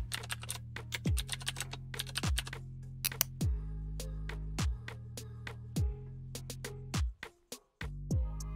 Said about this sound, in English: Just type your prompt and click on Search.